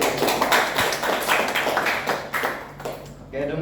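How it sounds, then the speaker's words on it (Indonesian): An audience at an agricultural gathering claps hands in a brief burst of fairly dense clapping, which fades out toward the end. "tepuk tangan dulu."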